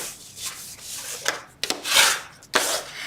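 Scored paper for a window box is burnished with a tool, giving short, dry rubbing strokes in an uneven rhythm, close and fairly quiet.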